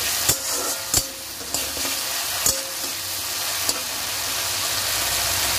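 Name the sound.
spice masala being stirred and fried in oil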